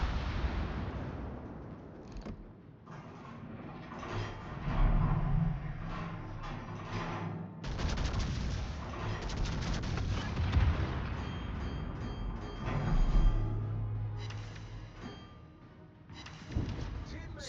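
Naval guns from the ship Victoria in World of Warships fire in heavy booming bursts with deep rumbling impacts, recurring across the stretch as someone talks over the battle.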